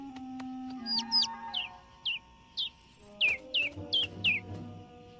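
A small cartoon bird chirps in a Hindi-dubbed animated movie, giving a quick series of about ten bright, rising tweets spaced across a few seconds over soft background music.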